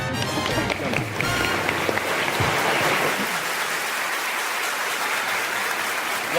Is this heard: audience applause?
yes